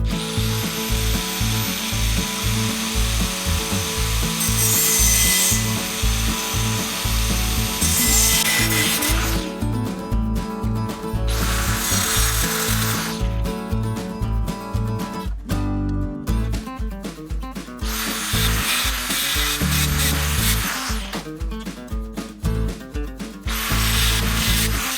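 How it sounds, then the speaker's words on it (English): Power saw cutting metal parts for curved 1932-style subrails on a Ford Model A build, loud and close, with repeated bursts of cutting separated by brief pauses and shop noise. "All right, let's get to cutting."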